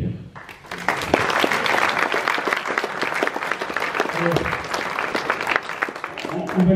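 Annual general meeting audience applauding the administrators, a continuous crowd clapping that swells after a quieter opening and holds steady, with some voices mixed in.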